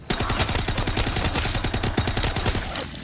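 Sustained rapid automatic gunfire from Call of Duty Black Ops 3 custom zombies, with close, loud shots in a fast, even rhythm that runs continuously for about three seconds before easing off.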